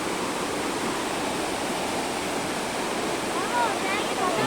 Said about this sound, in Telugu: వచ్చేసాము వాటర్ ఫాల్స్ దగ్గరికి